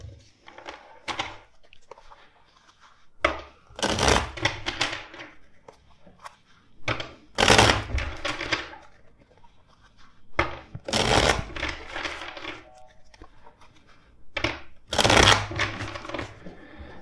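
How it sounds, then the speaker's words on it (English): A deck of tarot cards is shuffled by hand in several quick riffling bursts separated by short pauses, close and crisp, with no talking. "let's shuffle the deck four times."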